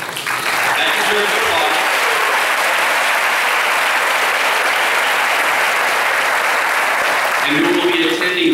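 Loud, sustained applause from a graduation audience for the valedictorian, a thick wash of clapping at constant strength that rises in before the first second and carries on to the end, with a voice coming in over it in the final second.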